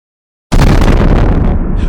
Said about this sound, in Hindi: अचानक एक खौफनाक धमाका हुआ।